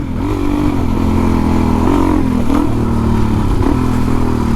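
A Suzuki DRZ 400e dirt bike engine running on a trail, a loud, close, steady thumping drone that rises and dips slightly with throttle, with light clatter over the top.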